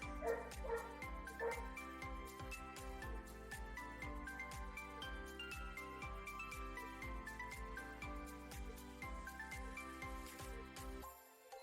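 Neighbours' noisy dogs bark and yip in a steady run of short woofs throughout, close and fairly loud, with a faint jingle in the mix and no talk.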